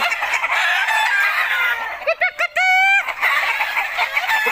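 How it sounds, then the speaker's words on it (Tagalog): Chickens cluck steadily in a busy coop while a rooster lets out a loud, drawn-out crow partway through, the clucking resuming after. "Ang dami niyang manok guys."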